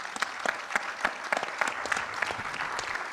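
An audience applauds at a talk honouring Essma Ben Hamida and Enda's microcredit work, with dense, sustained clapping from many hands that stays steady throughout and carries no speech.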